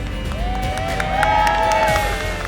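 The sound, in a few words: crowd cheering on McPherson College students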